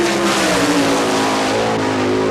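A sprint race car at an All Star Circuit of Champions dirt track event in Hartford, Ohio, roars loudly and steadily at high revs as it laps, the engine note holding strong and close throughout.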